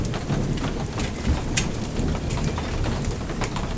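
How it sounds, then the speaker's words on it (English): Small pea-sized hail falling outdoors during a storm, a dense continuous patter of many tiny impacts, steady and close, with a few sharper clicks standing out. "Still got hail though."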